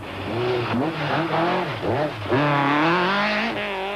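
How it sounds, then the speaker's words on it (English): Nissan rally car on slick racing tyres spinning its wheels on damp grass at the 1992 Swartland Rally, the engine revving hard and rising and falling in repeated surges as the tyres scrabble for grip, close and loud. "the Nissan wheel spins on the damp grass, battling to get traction"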